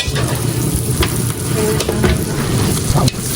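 Ube halaya being stirred in a pot, a close, continuous scraping and sizzling sound with a few brief clanks.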